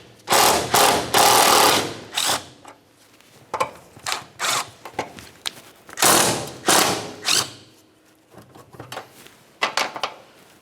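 A ratchet works 12mm bolts on a Scion xB exhaust bracket, with bursts of rapid clicking and metallic rattling broken by pauses and thuds, close and fairly loud with no talking.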